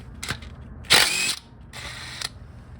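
Ratchet with an extension loosening 12 mm bolts on a 2008 Acura MDX 3.7 oil filter housing, a few short clicking bursts of the pawl with brief pauses between, close by.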